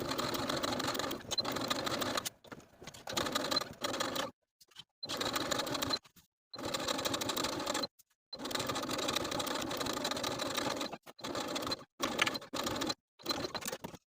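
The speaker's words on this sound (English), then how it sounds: "I'm going to start my stitching 3 inches away from the center front" Sewing machine stitching a zipper jacket seam, running in several loud, close bursts of steady whirring broken by brief pauses.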